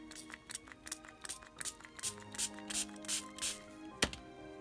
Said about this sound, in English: then you just spray it with vinegar.